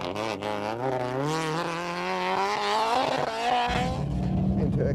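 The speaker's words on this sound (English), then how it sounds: "Tom Holton executes a nice handbrake turn in his Formula 2 Escort Maxi kit car." Formula 2 Escort Maxi rally kit car on a stage of the 2000 Rally of Ireland, engine revving hard and rising in pitch through a handbrake turn, then gravel spray and a rougher roar, close and loud.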